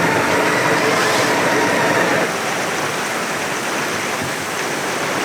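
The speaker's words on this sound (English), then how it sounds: "The rain." Dense, steady rush of heavy rain pouring down during a beach storm on the Ningaloo Coast, close and loud, easing slightly partway through but continuing without a break.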